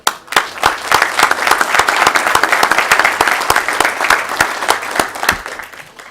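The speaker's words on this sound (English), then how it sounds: "all the council members certainly want to express our appreciation for you with some applause" Applause fills a parish council meeting room, a group clapping steadily for several seconds, fairly loud, then thinning and stopping near the end.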